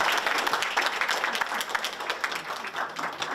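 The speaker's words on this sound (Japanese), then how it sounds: "みんなで拍手で送り出したいと思います" Meeting participants give a sustained round of applause as ministry officials are sent off at a gathering on fragrance-related harm, dense steady clapping from a mid-sized room with no talk over it.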